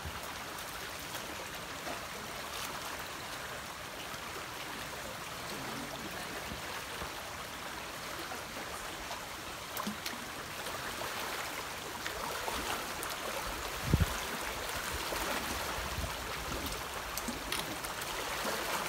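Stream water flowing at a river crossing in the Porcupine Mountains, a steady faint rushing and trickling wash with a brief thump near the middle and no talk.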